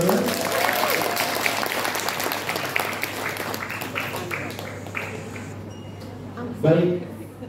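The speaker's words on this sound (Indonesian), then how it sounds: "Tepuk tangan dulu di sana." Audience applause at a motivational training session, a dense sustained clatter of many hands under a speaker's voice, tapering toward the end with a brief louder burst.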